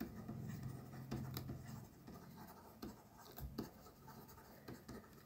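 A pen writes on paper in a quiet room, faint scratchy strokes and taps coming in short irregular bursts, close up and soft.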